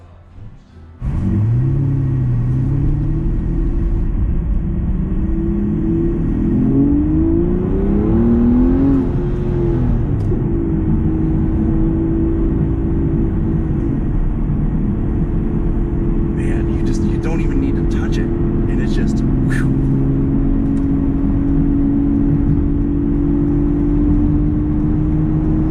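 A 2017 Aston Martin V12 Vantage S coupe's engine rumbles loudly and close, rising in pitch as the car accelerates, then holds a strong, steady drone while cruising.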